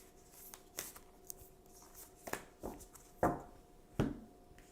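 Tarot cards are shuffled and drawn by hand, giving a quiet string of soft riffles, flicks and snaps, with a couple of sharper card slaps near the end, close and unaccompanied by talk.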